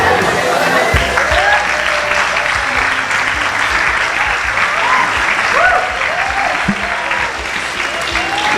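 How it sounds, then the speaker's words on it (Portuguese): Church congregation giving a round of applause during a sermon, loud and dense clapping from many people that continues throughout, with faint voices underneath. "Uma salva de palmas."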